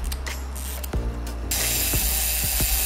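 The shutter winding mechanism of a Zenit 3M film camera ratchets and clicks close up, a series of sharp mechanical ticks and whirring gear sounds, with the pitch shifting partway through.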